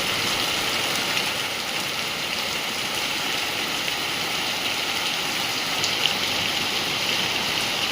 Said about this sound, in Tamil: இன்று திடீரென கருமேகங்கள் சூழ்ந்து மழை பெய்தது